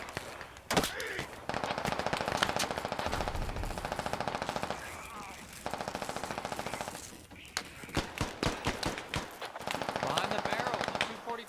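Rapid bursts of automatic gunfire in the military shooter game Squad crack in repeated volleys aimed at the player, loud and close, with only brief gaps between bursts over about eleven seconds.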